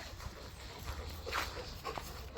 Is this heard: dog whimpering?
yes